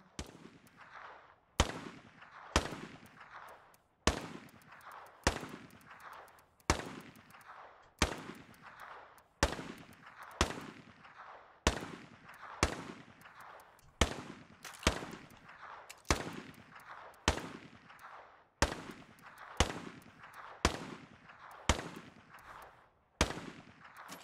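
Gunfire in the video game State of Decay 2, about twenty sharp single shots at a steady pace roughly a second apart, each with a quick fading tail, fairly quiet, no talk.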